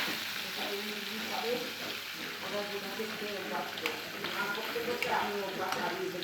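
Fish frying in a home kitchen pan, a steady crackling sizzle that holds up the whole time, with faint clinks and voices talking over it.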